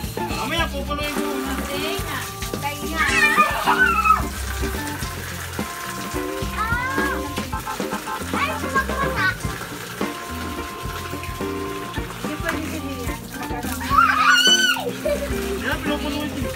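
At a resort pool, water splashes and slaps in repeated bursts as people throw water at each other, with children and adults talking and shouting throughout.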